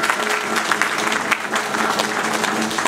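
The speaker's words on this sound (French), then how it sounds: "faites pour vous-même des acclamations" Sustained applause from an assembled audience, dense and continuous with a steady wash of many hands clapping at once, loud and close with a faint voice briefly underneath.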